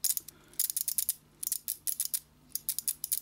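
A tool ratchets in short bursts of rapid, crisp clicks, close and clear with brief pauses between turns, during carburetor synchronization work on a Yamaha 1200 FJ motorcycle.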